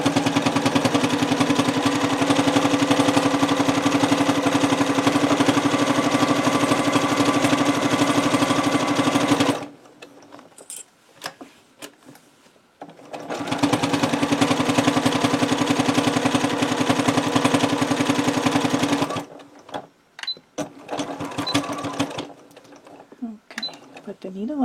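A sewing machine runs in two long, steady bursts of loud mechanical whirring, with quiet gaps and brief talk between the runs.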